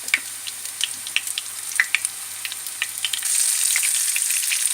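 Soya, tofu and onion nugget pakodas frying in hot oil, with scattered crackling pops over a steady sizzle that grows denser and louder partway through, close by and with no talk.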